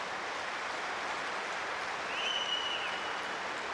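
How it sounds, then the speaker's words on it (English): A dense, distant hiss of applause fills the tennis stadium after the Adelaide final, a steady even roar with a faint high tone passing briefly over it. "Give them a big round of applause."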